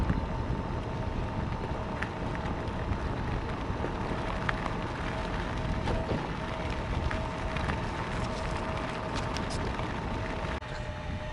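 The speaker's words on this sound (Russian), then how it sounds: "Ветер, наверное, очень сильный." Steady broadband roar of strong spring wind buffeting the microphone throughout, loud and continuous with no voices.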